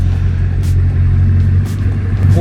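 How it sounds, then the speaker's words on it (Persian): A Bugatti 16-cylinder engine idles with a steady, deep rumble and vibrating low hum, close by and continuous throughout. "اصلا صدای ویبره موتورش داره میاد"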